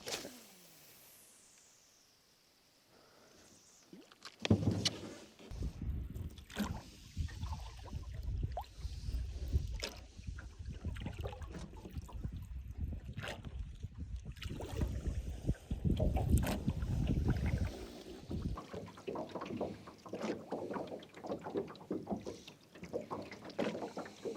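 A small boat, apparently trolling, moves around a cove under an outboard motor, with a steady low drone and water wash that runs from near the start to the end, starting abruptly after a few seconds of quieter open-air ambience.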